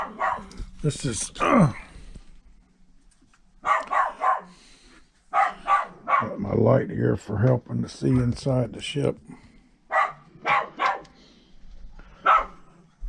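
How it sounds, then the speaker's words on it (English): Several dogs, including one barking at another dog across a fence, bark in short bursts at close range while someone talks over and between the barks. "he's barking at the dog over there on the other side of the fence"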